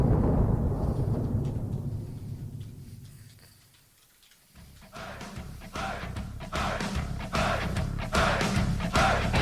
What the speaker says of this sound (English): Love that thunder.